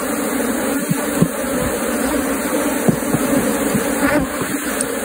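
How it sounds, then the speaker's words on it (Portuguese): Honeybees of the Apis species swarm around an opened hive box with a honey super, a dense, loud, continuous buzz close to the listener, with a few louder individual bees passing near and no voices. "Controlar essas abelhas na caixa."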